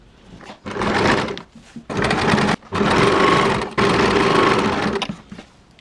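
A sewing machine stitches fabric for a baby frock in four loud, close whirring bursts of running stitches, separated by short pauses.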